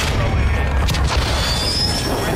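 Artillery fire mission in Call of Duty: Modern Warfare 2, a steady loud low rumble of distant explosions with a brief burst of crackle, no clear separate blasts.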